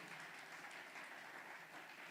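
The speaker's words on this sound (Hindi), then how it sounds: "जोर से प्रभु के लिए ताली बजाएंगे अगर आप विश्वास करते हो" Congregation applause at a church conference, a steady dense wash of many hands clapping together, sustained and fairly quiet with no voices over it.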